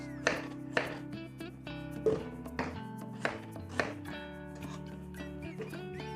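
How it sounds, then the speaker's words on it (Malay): Two onions being cut for a coconut-shoot vegetable dish, a series of about eight knife chops on a board at an uneven pace over faint background music. "Kita akan potong dulu bawang."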